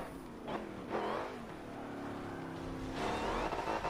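A V8-powered Honda Odyssey minivan revs and accelerates in Forza Motorsport 7 on the Nordschleife, engine notes rising in surges with gear changes, loud and close, no speech over it.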